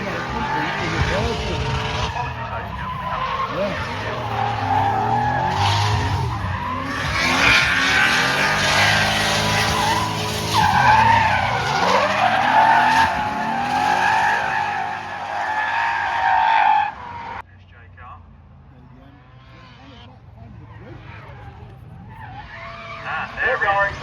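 At a Tunerfest North drift event, a Mazda RX-7 and a BMW slide past with loud, wavering engine howls and long tire squeals, then the noise drops suddenly. A commentator talks over the cars.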